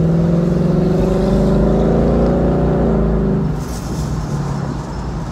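Loud, steady exhaust roar from a 2019 Ford Mustang GT Premium at low road speed: a deep, continuous burble that swells and then eases slightly near the end. No voices over it.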